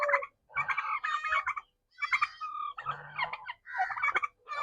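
A turkey's rapid, bubbling gobbles repeat in several bursts with brief gaps, fairly close and moderately loud, with no talking.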